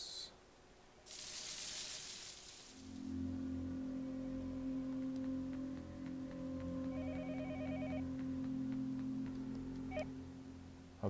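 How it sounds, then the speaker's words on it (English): An in-game telephone rings in the horror game Yomawari: Night Alone, a few electronic ring bursts over a low, droning eerie ambience after a short hiss at the start. "A phone is ringing again."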